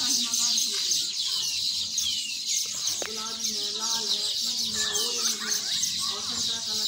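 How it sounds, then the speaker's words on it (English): Small birds chirp around their nest in babool trees, with thin overlapping tweets and calls repeating near and far while a person talks throughout. "You can see in the video, the birds have made their home,"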